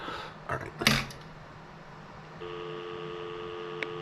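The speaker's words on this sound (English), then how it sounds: "Dial tone." A payphone handset clatters and thumps briefly, then after a pause a steady dial tone hums on without interruption until the end, fairly quiet and close.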